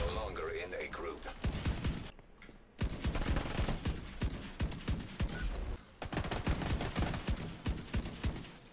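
Rapid rifle fire from The Division 2 rattles in dense bursts, with short pauses and a brief gap in the middle, while a player's voice talks over the shooting.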